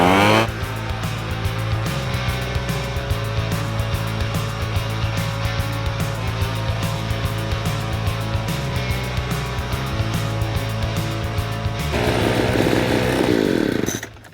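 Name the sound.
Craftsman B2000 gas leaf blower running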